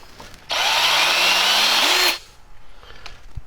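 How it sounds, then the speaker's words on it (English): A power drill bores a hole during tow-hitch prep work on a 4.8L Chevrolet Tahoe, one loud steady burst of about a second and a half with the motor pitch rising near the end, then it stops. "I'm gonna drill them first and then make the mark through where the hole lands"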